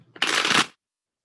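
A single quick riffle of a tarot card deck, a brief papery flutter lasting under a second, close and crisp, then silence.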